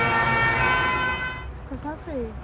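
A distant fire engine siren wails in rising and falling sweeps beneath steady street noise in Roubaix, with a voice briefly audible.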